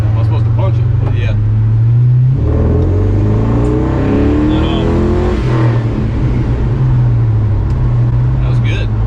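LS V8 truck engine revving hard during street tuning on all eight cylinders, a loud sustained roar that climbs and swells in pitch, close by, with voices speaking over it.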